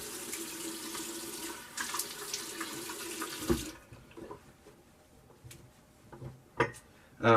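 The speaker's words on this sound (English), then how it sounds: "Let me put some cold water on." Cold water runs steadily from a bathroom tap during a shave, a broadband rush for the first few seconds that cuts off, followed by quieter clinks and small handling knocks.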